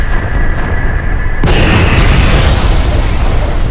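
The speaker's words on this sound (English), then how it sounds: "Now, press the 1 key, and Epsilon will destroy your target" A loud, close explosion in the space combat game Freespace 2 as wingmen destroy a transport, a sudden booming blast that follows a steady engine hum and then rumbles on.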